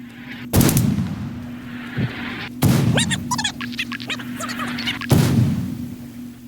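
Mortar shells burst in an Antistasi mission on the Altis map, three heavy booming impacts spaced a couple of seconds apart, each with a sharp onset and rumbling tail, a smaller thump between them and chirpy game effects in the background.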